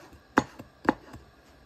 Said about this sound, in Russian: Вот так вот мы ее нарезаем.